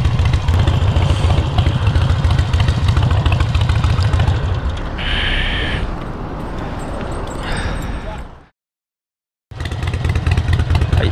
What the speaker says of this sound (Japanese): エンジンがなんか軽く回ってる気がします